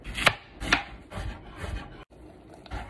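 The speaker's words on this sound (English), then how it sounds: "Now that they're naked, we're gonna cut them into matchsticks." A knife chops peeled daikon and carrot into matchsticks on a cutting board, several loud, distinct thuds spaced in a loose rhythm, close by with no talk.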